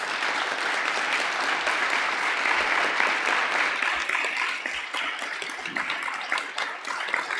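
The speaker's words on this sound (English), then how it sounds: "How about a round of applause for all of our many RE teachers," A congregation at a church service gives a round of applause, a dense, sustained wash of clapping from many hands that carries on for several seconds.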